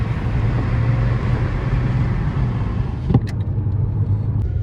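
A cheap used car on a test drive, its engine rumbling steadily and close while it rolls along, with a brief bump or clunk near the end.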